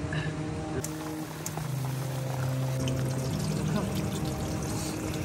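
Heavy rain water pours and splashes at a campsite in a continuous rushing wash, loud and close, with a low steady hum beneath it.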